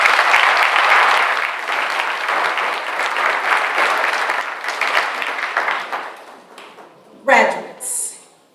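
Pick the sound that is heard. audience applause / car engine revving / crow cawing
audience applause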